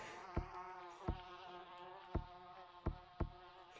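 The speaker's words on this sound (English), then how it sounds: "the bees are rapidly chasing after you" A continuous droning buzz like swarming bees in a video game, steady and close, punctuated by several soft low thumps.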